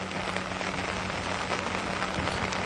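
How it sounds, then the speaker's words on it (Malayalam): Heavy rain pours down steadily on an outdoor roadside, a dense, unbroken hiss with no voices and no pauses across the whole stretch. "നല്ല മഴ പെയ്യുന്നുണ്ട്"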